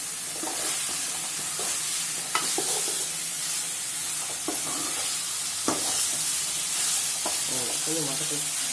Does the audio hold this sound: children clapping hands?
no